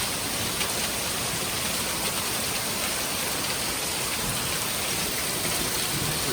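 Steady rain pours through a stormy night that brought repeated storm and tornado warnings, a dense, even hiss that stays constant from start to finish with no voices.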